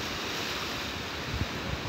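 Sea waves washing onto a Canary Islands shore, a steady broadband wash of surf with wind noise over the microphone and a couple of slightly stronger swells near the end.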